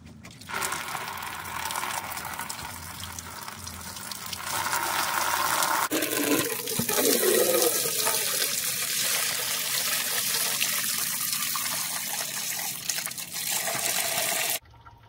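Coolant drains from a car engine, a steady pouring and gushing of liquid that swells louder partway through, then runs on evenly before stopping abruptly near the end.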